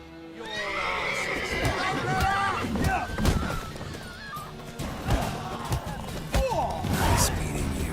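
A horse whinnies and snorts several times in the video game Witcher 3: The Wild Hunt, loud and close, with voices talking over and between the calls.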